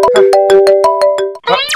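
A loud, close phone ringtone plays a bright repeating melody of short beeping notes, ending with a sharp rising chirp.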